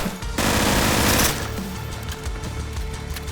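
Gunfire in the video game Intravenous 2 arrives as a loud, rapid automatic burst of about a second, followed by quieter scattered shots and a lingering rumble.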